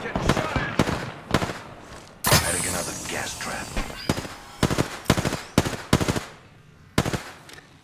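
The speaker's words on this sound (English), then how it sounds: "Guns fired and they're hitting me." Bursts of gunfire in the Apex Legends video game, rapid sharp shots in clusters followed by a sustained roar, then several separate loud single and double shots, close and punchy, with speech present.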